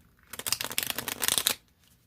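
A deck of tarot cards being shuffled for a reading: one continuous, close, papery riffle of rapid flicking that lasts about a second and a half, with no voices.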